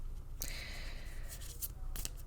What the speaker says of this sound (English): So let's shuffle until Spirit tells me to stop.